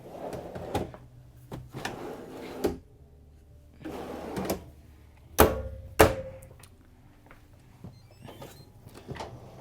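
A trash can pull-out drawer in the kitchen of a 2026 Newmar Dutch Star 4081 motorhome slides and knocks shut with several sharp clacks and thumps, with quieter handling noises between them, close by and without talk.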